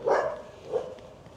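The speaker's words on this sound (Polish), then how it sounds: "Ale psy ze sobą gadają. No. Chyba takie wiekowe, bo już ledwo szczekają." Two faint, muffled barks from elderly dogs standing together, heard at a distance a moment apart against quiet outdoor background.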